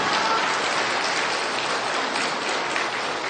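A congregation at a Buddhist temple dharma gathering breaks into a brief burst of dense, steady clapping, loud and close, with no voices over it.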